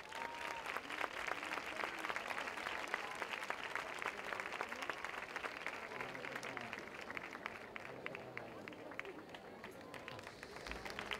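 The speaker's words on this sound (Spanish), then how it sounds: "Mucho aplauso." Crowd applause at a fair queen coronation ceremony in Casares, 2014, dense steady clapping from an audience sustained throughout at moderate distance, with voices mixed into the crowd noise.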